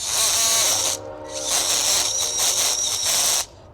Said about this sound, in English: So I'm going to drill that a little bit more